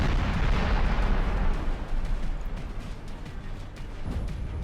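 Napoleon Total War battle with artillery and musket fire: a dense, loud roll of booming cannon blasts and crackling volleys that rumbles on without pause, no voices.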